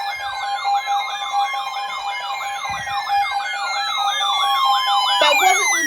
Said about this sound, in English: I think I just saw the weirdest EAS activation ever.